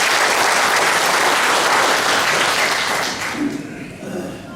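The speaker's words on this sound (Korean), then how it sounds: "동의하시면 박수 한번 쳐주십시오." Audience applause at a Korean public talk about Chungju, a dense, loud wash of clapping that holds steady for about three seconds before tapering off.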